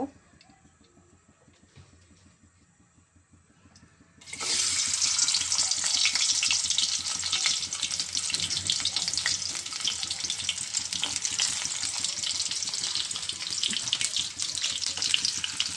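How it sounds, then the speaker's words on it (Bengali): Shredded coconut hits hot oil in a pan and breaks into a loud, continuous sizzle after a few seconds of quiet, staying strong and steady to the end. "তেল গরম হচ্ছে, তেল গরম হলে আগে দেব নারকেল কুচিগুলো দিয়ে দেব"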